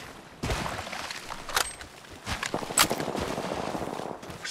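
Bursts of gunfire from the Apex Legends battle royale game crack out in quick succession, loud and close, with sharp transient shots layered over a busy, noisy game mix and no talk.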